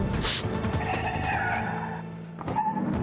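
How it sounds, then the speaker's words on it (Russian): A car braking hard on a road in winter conditions, tires skidding in a loud scraping squeal for about two seconds, followed by a brief second screech, with traffic noise around and no talking. "скорее всего, резкое торможение впереди идущего товарища"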